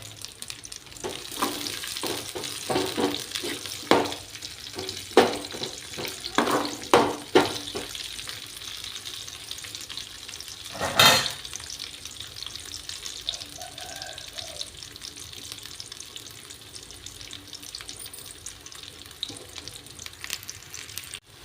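Dried red chilies and seeds fry in oil as a tempering for a tomato, brinjal and gongura curry: sharp crackling bursts early on, one loud spurt midway, then a quieter background sizzle.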